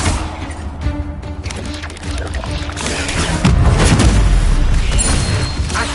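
A fire spell is cast in Hogwarts Legacy, a loud whooshing, booming blast that swells midway and roars on over dense game music and effects.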